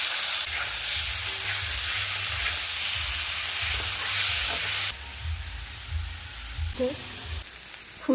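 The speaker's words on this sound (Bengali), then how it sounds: "ওই তেলের মধ্যে আমি সিদ্ধ করা ফুলকপি ভেজে নেব।" Boiled cauliflower fries in hot oil left over from frying potatoes, a loud, dense sizzle that drops to a softer, uneven crackle partway through, with a few stirring clinks near the end.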